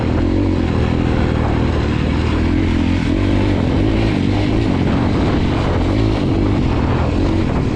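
Motorcycle engine on a single-track dirt trail pulling steadily at wider throttle, a loud, continuous near drone with a low rumbling tone that wavers slightly with the terrain, heard alone without voices.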